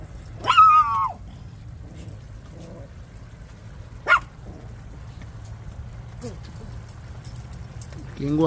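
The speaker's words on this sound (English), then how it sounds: "Ali, go and put the dog in the cage." A dog in a home kitchen gives a couple of sharp, yelping barks, one near the start and another midway, heard moderately close over a low background hum.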